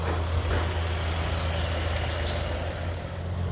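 A manure truck is pulled out on a farm: a steady low diesel engine rumble with a continuous heavy drone, some brief higher hissy bursts like air brakes near the end, no talking.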